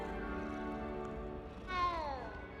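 A cat in the video game Hogwarts Legacy gives a single clear, rising-then-falling meow near the end, close and moderately loud, over a steady musical background.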